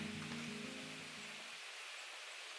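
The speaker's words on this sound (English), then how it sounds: "and it's raining" Steady rain falling outdoors around a partly built DIY greenhouse frame, a continuous soft hiss with no talking; a faint low hum fades out in the first second and a half.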